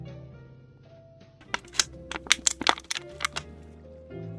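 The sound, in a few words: plastic water bottle crunched into the microphone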